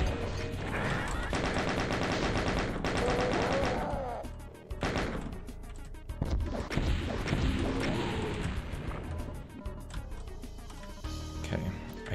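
Chaingunner enemies in Doom II firing rapid bursts of gunfire, mixed with explosive crashes, thuds and game music in a dense, continuous barrage.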